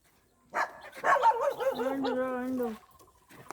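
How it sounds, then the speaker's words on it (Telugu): A dog close by gives a couple of sharp yips, then a drawn-out, rising and falling whine lasting about two seconds before it falls quiet. "కుక్కలు మరుగుతున్నాయి."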